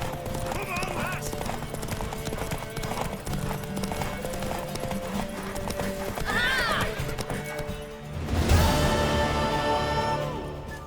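Steady clip-clop of galloping hooves with a horse whinnying, over game music and voices talking, in The Witcher 3: Wild Hunt.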